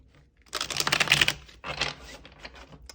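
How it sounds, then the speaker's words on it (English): Two quick bursts of riffling shuffling of a tarot deck, crisp papery fluttering up close, with a short pause between them. "Okay, we're going to do one last shuffle."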